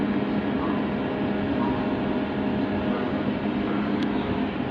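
A train approaches a red signal near London Bridge, giving a steady, fairly loud rumble with a low mechanical drone that holds throughout, plus a single brief sharp squeal near the end.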